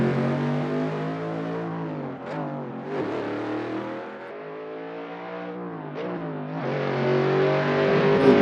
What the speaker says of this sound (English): The double clutch action there.